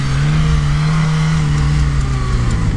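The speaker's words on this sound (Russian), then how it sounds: "приехал у нас бронированный автомобиль с большим разгоном" An armored Lada Niva accelerates hard, its engine droning loud and close with a steady low hum and rising strain throughout, no voices.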